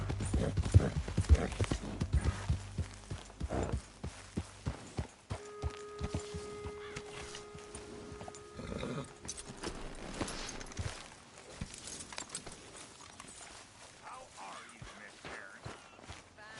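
Horses clip-clop at a walking pace in the Red Dead Redemption 2 game, the hoofbeats loudest in the first seconds and then fading into a busier mix. Brief voices and a steady tone come and go over them.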